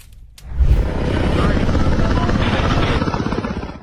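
A helicopter flying over mountainous terrain: a steady, loud rotor thump builds in after a brief quiet start and holds close and continuous.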